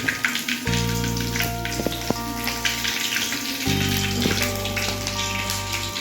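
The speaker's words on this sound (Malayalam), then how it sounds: "നമ്മൾ ഒരു കൊഞ്ച് അതിലോട്ട് ആഡ് ചെയ്ത് കൊടുക്കുകയാണ്" Prawns fry in hot oil with curry leaves, giving a constant crackling sizzle like light rain that runs the whole time beneath steady background music.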